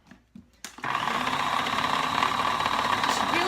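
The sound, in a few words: food processor spinning to blend a Mexican party dip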